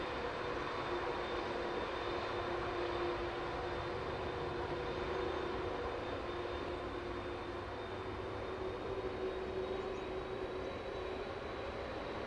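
A Lockheed C-5 Galaxy aircraft at an airshow gives off a loud, steady engine roar with a constant hum that holds without letup, with no voices over it.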